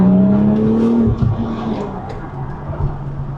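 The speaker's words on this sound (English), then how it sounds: "Nice little 2nd gear pull with the window rolled down. Oh yeah. That's why I went with the Soul Performance exhaust." Porsche 996 Turbo with a Soul Performance exhaust accelerating hard in second gear, loud and close from inside with a window down, engine note rising then settling into a steady drone.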